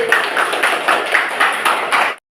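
Students in an Indonesian classroom perform a rhythmic group clap, a patterned chant-clap repeated in steady bursts about every half second, loud and close, ending abruptly.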